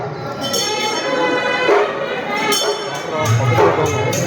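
A crowd inside Ekambaranath temple: a steady murmur of many people mixes with occasional metallic clinks and bell-like rings. The sound is moderately loud and close.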